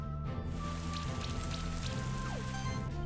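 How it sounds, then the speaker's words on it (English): Acid Rain attack effect from the video game Monster Sanctuary, a steady hiss of falling rain with scattered droplet patters over a low, continuous game music bed, no talking. "We're gonna do Acid Rain on here."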